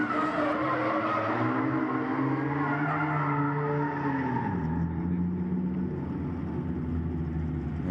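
Drift car at Agassiz Speedway during a grassroots drifting competition, engine droning loud and steady with a pitch that rises then drops sharply midway, tyres scrubbing under it, with no break in the noise.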